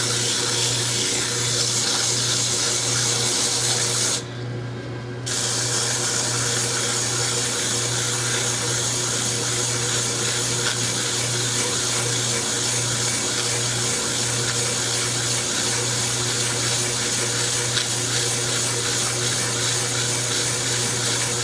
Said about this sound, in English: You just hold a piece of sandpaper and it sands for you.